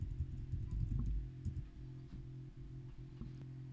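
Quiet typing on a computer keyboard, a scattered run of soft key clicks at close range over a low steady hum.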